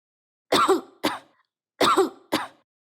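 Two pairs of harsh, dry coughs, close and loud, with a short pause between each pair and silence around them.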